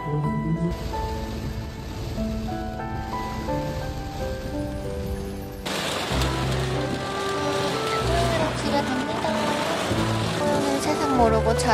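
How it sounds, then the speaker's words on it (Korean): Steady heavy rain hisses throughout. A tonal murmur sits underneath, and the downpour grows fuller and louder partway through. "비가 진짜 하늘에 구멍 뚫린 듯이 오고 있어."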